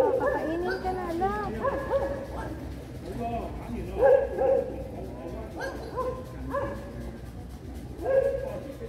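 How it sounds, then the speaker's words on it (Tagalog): Several dogs bark, yip and whimper in repeated bursts near the Cheung Chau temple, close and fairly loud, while people talk in the background. "Ala, ang daming aso."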